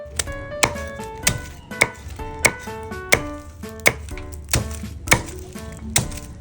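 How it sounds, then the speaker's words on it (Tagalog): A knife chops crispy chicharong bulaklak (fried pork intestine) on a cutting board in about ten sharp, evenly spaced cracking strikes, loud and close with no voices. "start ko naman silang i-chop"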